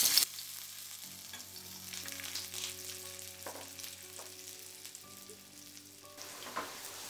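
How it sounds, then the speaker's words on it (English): Boiled potato cubes frying in hot oil in a pan, a soft sizzle following a brief burst as they go in, with quiet stirring and a low steady background hum; fairly faint and close, no voices. "once the oil is hot, I'm going to add the boiled potato cubes to it"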